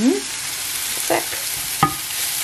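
Bacon frying in a pan, with a steady sizzle throughout and a few scraping stirs of a utensil against the pan; no talking.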